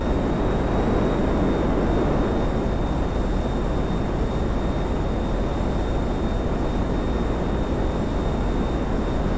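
A fighter jet in GTA V lifting off vertically like a helicopter, giving a steady, loud jet-engine roar with a thin high whine that holds unbroken throughout, with no speech.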